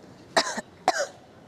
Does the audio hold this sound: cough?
yes